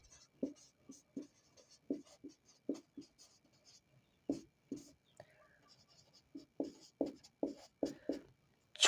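Pen or chalk writing notes during a geography lecture on earth movements, with short rhythmic scratchy strokes in bursts, faint and close, and quiet whispery breaths between them.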